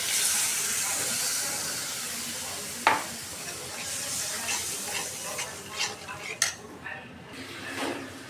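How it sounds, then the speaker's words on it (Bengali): A spice paste of ginger, garlic, coriander, turmeric, chilli and salt being stirred and fried in a pan, with a sizzling bed under clattering spoon-on-pot knocks and scrapes, one sharp clang early, close by with no talk. "এই যে মশলা দিয়েছি, আদা, রসুন, ধনিয়া, হলুদ, মরিচ, লবণ। কষাই নেবে এখন মশলাটা।"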